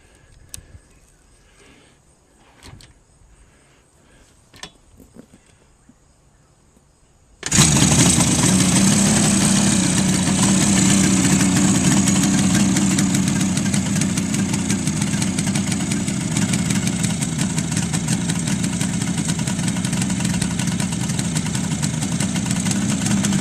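An old motorcycle sits quietly with a few clicks and knocks, then its engine suddenly catches and settles into a loud, steady, close idle that rumbles evenly for the rest of the time, with no talk.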